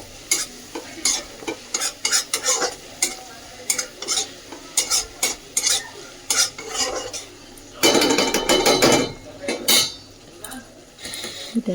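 A spice mix of coriander, cumin, chili powder and turmeric is stirred into cabbage paratha filling in a hot pan, with close, irregular spoon scrapes and clinks against the metal over a low sizzle, growing busier and louder partway through.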